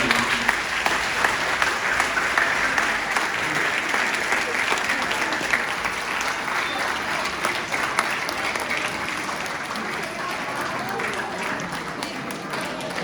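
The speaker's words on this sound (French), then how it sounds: "Je voudrais qu'on applaudisse le conférencier." A lecture audience applauding the speaker at the close of a talk on artificial intelligence in higher education, a sustained, even roar of clapping that slowly tapers, with faint voices beneath.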